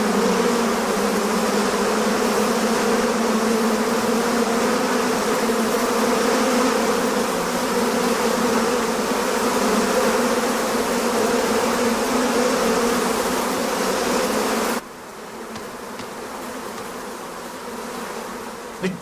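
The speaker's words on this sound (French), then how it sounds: "Qu'est-ce que c'est que ces mouches?" A swarm of flies buzzes in a thick, continuous drone that stays loud and close, then drops noticeably quieter near the end.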